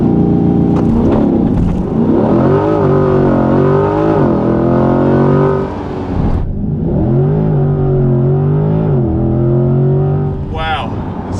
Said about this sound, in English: Gonna do a launch control.